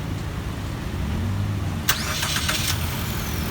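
An engine turns over and catches with a brief crank, then settles into a steady idle over a constant low rumble.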